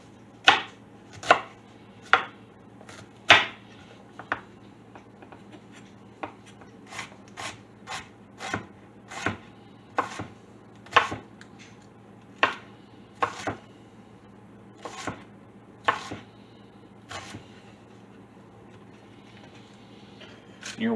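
A knife chopping the other half of an onion on a cutting board, irregular sharp thuds and cuts about one per second over a low steady hum, close and distinct, alone with no talking.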